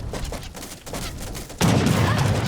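Musket troops firing in a strategy video game: a ragged crackle of distant volleys followed by a louder, denser burst of musketry rumbling on steadily at the end.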